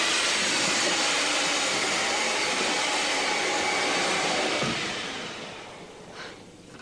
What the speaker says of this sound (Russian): Не волнуйся. Это ветер.